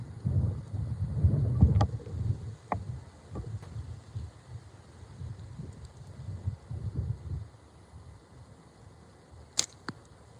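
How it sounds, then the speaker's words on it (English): Wind blows outdoors near water, buffeting the microphone in uneven low rumbling gusts, strongest at the start, easing off later, with a couple of faint sharp ticks near the end. "that wind picking up on us"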